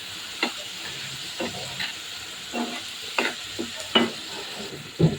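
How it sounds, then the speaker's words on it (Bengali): Prawns sautéed in a pan with onion, chili and cumin powder, heard as a steady close sizzle broken by repeated scraping stirs of a utensil against the pan, no talking. "চিংড়ি মাছ বসিয়ে দিয়েছি, একটু হালকা জিরের গুঁড়ো দিয়ে দিলাম"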